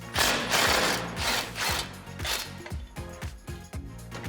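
Socket ratchet clicking in rapid bursts while bolts on a 2005-2021 Toyota Tacoma suspension are loosened with a 17mm socket during a Rough Country 3.5-inch lift kit install, loud and close, no voices.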